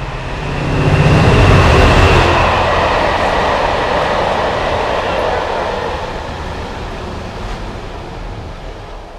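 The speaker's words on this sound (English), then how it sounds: "excuse the train coming past" A train rushes past close by, a loud roaring rumble that swells within the first two seconds and then slowly fades as it moves on.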